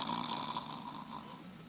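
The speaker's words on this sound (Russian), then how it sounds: "Кто так жутко храпит у вас" Loud snoring in the video game Days Gone: a single drawn-out, rough, throaty snore that rattles and slowly fades, heard alone without speech.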